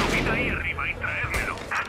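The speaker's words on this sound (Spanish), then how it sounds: "Me curo y me pega un tiro." Gunshot from an enemy in the Mafia remake video game, cracking out over a dense, continuous game soundtrack while someone talks on top of it.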